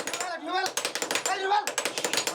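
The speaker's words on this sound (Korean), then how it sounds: "신기한 것을 보여주겠다며 금속을 두드리기 시작했는데" Eight men hammer metal together in a fast, tight rhythm, producing rapid, sharp, ringing strikes in quick succession, with voices briefly sounding between and over the blows.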